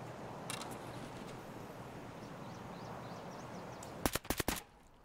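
AKM rifle fire in a video game: a rapid burst of about four sharp, loud cracks near the end, rising over a steady wash of background noise.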